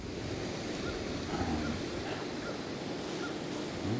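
Steady wind blows upstream beside a river, a constant broadband rush with gentle swells and no voices.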